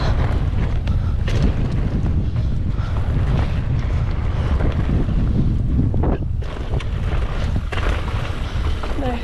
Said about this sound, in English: it's such a windy day today